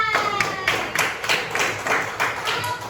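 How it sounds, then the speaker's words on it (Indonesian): A classroom group claps together in steady applause, a dense run of close hand claps sustained evenly for a few seconds. "beri aplaus dulu guys"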